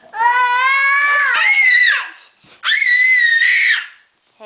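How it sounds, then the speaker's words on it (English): A young child shrieks excitedly at close range in two long, high-pitched bursts separated by a brief pause, the second burst cut off abruptly. "Hey, don't scream."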